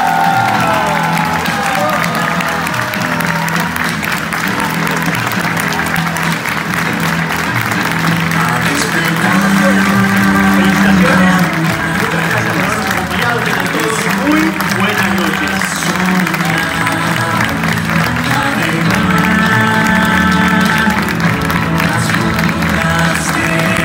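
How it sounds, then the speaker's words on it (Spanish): Loud, sustained applause for new engineering graduates at a UADE ceremony: dense clapping with cheering and whoops from a large crowd, steady for the whole stretch. "proponemos dedicarle un fuerte aplauso a los recién graduados"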